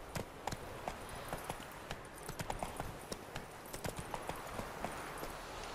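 Roach, the horse in The Witcher 3, trots along with steady, rhythmic hoofbeats. The clip-clop is fairly faint against a soft background hiss, and no voice is heard.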